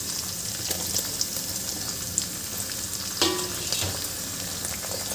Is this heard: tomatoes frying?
yes